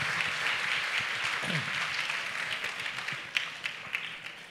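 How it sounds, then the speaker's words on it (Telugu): An audience applauds Father Jayaraj at a Mana Pandagalu special program in Gollaprolu, a steady wash of many hands clapping at a distance that carries on for several seconds with a few sharper claps near the end. "మీ అందరి తరపున నా తరపున ఫాదర్ జయరాజ్ గారికి చప్పట్లు కొట్టి అభినందనలు తెలియజేస్తూ"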